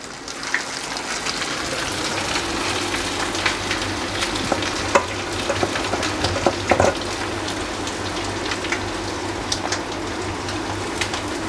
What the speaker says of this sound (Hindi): तो फ्राई पैन में जितने आएंगे इसको मीडियम आग पे पकाना है।